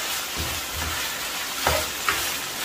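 Chopped vegetables stir-frying for chow mein give off a loud, dense, continuous sizzle, with a couple of brief scraping stirs standing out near the end; no talking.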